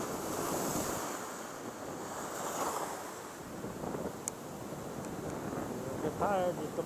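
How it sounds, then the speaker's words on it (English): Ocean surf surges and crashes steadily at a shoreline, with heavy wind rumble on the microphone, while someone talks over the roar of the waves. "Here come the surge."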